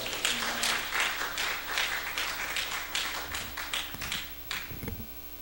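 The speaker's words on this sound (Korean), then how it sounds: "우리 조 목사님 나오실 때 할렐루야와 큰 함성과 박수로 환영하겠습니다" A church congregation claps to welcome a pastor to the front, a quick run of dense rhythmic applause that thins into scattered claps and a few louder taps, set against a faint steady hum in the sanctuary.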